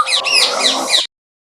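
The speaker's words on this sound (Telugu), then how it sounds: "తేనెపిట్ట" A hummingbird makes one burst of rapid, high chirping twitters lasting about a second, close and clear, then falls silent.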